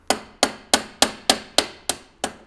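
A hammer taps a footpeg into place on a BMW R1100GS motorcycle, eight sharp, evenly spaced metallic strikes close by, each ringing briefly before the next.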